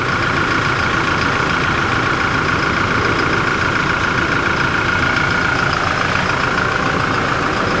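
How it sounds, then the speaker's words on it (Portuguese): A Toyota Hilux pickup truck engine with 120,000 km idles close by, a loud, steady low rumble with no change in pace. "O motor está em funcionamento."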